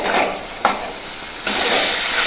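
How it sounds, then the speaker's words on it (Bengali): Spice paste with ground mustard and poppy seed sautéing in a pan for a tangra fish jhalda with brinjal, a steady close sizzle with a brief stirring scrape partway and a louder hiss near the end, no talking. "মশলাটা আমার মোটামুটি কষানো হয়ে গেছে।"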